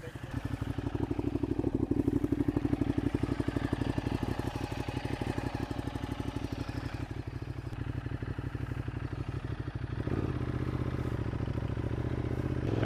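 A motorcycle engine runs steadily at close range as a road trip day begins in British Columbia, a continuous low throbbing drone with mechanical clatter, shifting in tone about ten seconds in as the bike pulls away.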